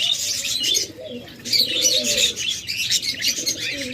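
A flock of pet birds kept for sale, sold with eggs and chicks, chirps and calls in a busy, continuous chorus up close, with occasional soft coos and wing flutters.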